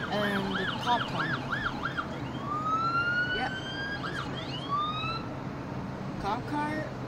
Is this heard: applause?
no